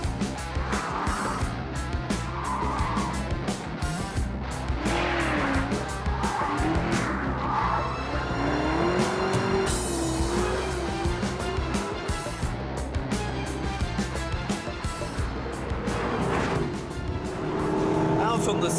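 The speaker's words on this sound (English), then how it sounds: "On the smooth Silverstone racing circuit, I can finally appreciate the sounds of that engine behind me." A Ford car's engine roars on the smooth Silverstone racing circuit, loud and close, revving up and down through gear changes with brief bursts of tyre noise.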